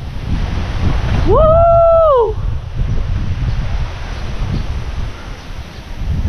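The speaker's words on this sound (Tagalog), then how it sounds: "Lakas ang hangin, no?" Strong sea wind roars and buffets the microphone continuously by the shore, with surf beneath, as a voice gives a brief excited whoop near the start.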